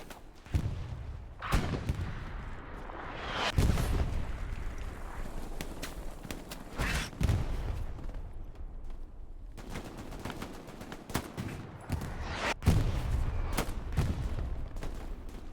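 Gunfire in the World War II shooter Hell Let Loose crackles in scattered bursts and single shots, some near and sharp, others distant, under a steady low rumble of background battle noise.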